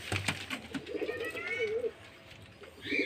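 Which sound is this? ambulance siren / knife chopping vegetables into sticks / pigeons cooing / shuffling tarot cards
pigeons cooing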